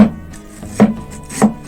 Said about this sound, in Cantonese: 薑我哋去皮3大片